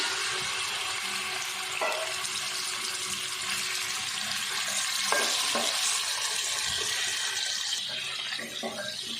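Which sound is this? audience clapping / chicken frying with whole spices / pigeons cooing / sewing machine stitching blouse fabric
chicken frying with whole spices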